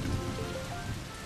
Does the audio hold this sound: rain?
yes